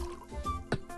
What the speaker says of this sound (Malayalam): കപ്പ് നിറഞ്ഞില്ലേട്ടാ. ഇത്തിരി നിറഞ്ഞ മതിട്ടോ.